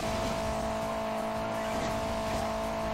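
A car engine in the Hill Climb Racing 2 mobile game drones continuously at a steady pitch, loud and unbroken for the whole stretch, with no speech over it.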